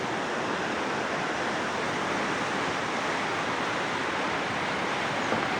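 Stream of a nullah rushing beneath a crumbling bridge in an Azad Kashmir village, a steady broadband roar of water holding constant and loud throughout, with no talking.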